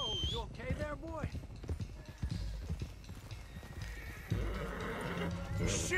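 A horse in Red Dead Redemption 2 whinnies sharply at close range, then its hooves clip-clop on the ground. Voices speak over the hoofbeats.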